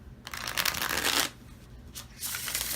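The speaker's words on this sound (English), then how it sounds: "Let's shuffle the cards first." A deck of tarot cards is shuffled by hand at close range: a long riffling burst, a brief pause, then shorter rustling bursts and a final flutter.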